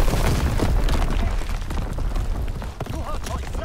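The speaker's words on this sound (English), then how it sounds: "Incoming enemy artillery." Artillery shells explode in a video game battle, a dense run of booms and bursts that carry on throughout without a break.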